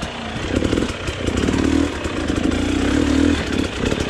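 A KTM XC-W dirt bike engine chugs in low first gear along a slow, technical trail, its close, steady throbbing rising and falling slightly with throttle, with no voices.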